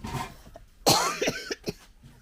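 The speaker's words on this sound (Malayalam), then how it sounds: "ചുമ." One person coughs sharply, followed by a few shorter throat-clearing bursts, close and fairly loud against a quiet room.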